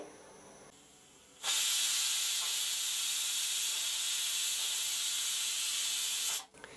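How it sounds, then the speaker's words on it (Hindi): A pressure cooker's steady steam hiss while cooking chicken biryani starts abruptly, runs evenly for about five seconds, then cuts off sharply. "यहाँ पर कुकर में दो सीटियाँ हो गई है तो मैं कुकर वाला गैस बंद कर देती हूँ"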